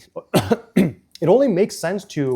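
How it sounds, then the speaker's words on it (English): A single short cough bursts out close up at the start, quickly followed by someone talking at conversational volume. "That was a cough."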